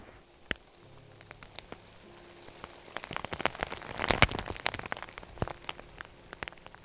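Rain patters onto covered camera gear in an autumn forest, with scattered close drops tapping at first, then a denser burst of hits midway before easing back to sparse, irregular ticks.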